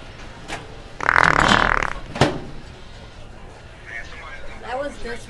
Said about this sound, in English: You just farted in my face